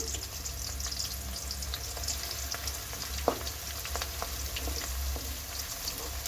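Curry leaves fry in hot oil for a Telangana-style stuffed brinjal curry, giving a dense, crackling sizzle, close and steady, with small pops and one sharp clink partway through.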